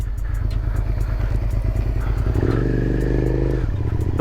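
A 2003 Suzuki SV650S sportbike runs with a steady, throbbing exhaust rumble, close and loud, swelling briefly in a rev before settling back to its uneven pulse.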